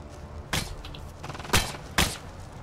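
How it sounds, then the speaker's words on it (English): Machine gun fire in the video game Deathgarden: Bloodharvest comes as three short, sharp bursts spaced unevenly over a couple of seconds, fairly quiet and somewhat distant against a low background. "The guy with the machine gun?"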